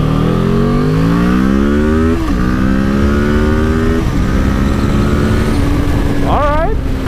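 Kawasaki Ninja 650 motorcycle, a 2016 model, accelerating hard through the gears, its engine note climbing in pitch, dropping at each shift and climbing again, loud and close throughout.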